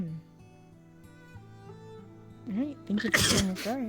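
A single abrupt sneeze bursts out right after someone finishes speaking, loud and close, with voices continuing around it.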